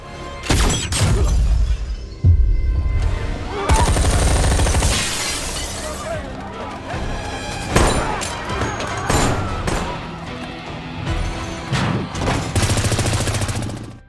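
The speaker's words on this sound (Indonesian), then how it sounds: "sebuah peluru terlebih dulu menembus salah satu orang kelompok Noel hingga aksi baku tembak pun terjadi" A shootout in an action film brings loud bursts of gunfire mixed with shattering glass and impacts, close and chaotic, with brief gaps between volleys and faint voices underneath.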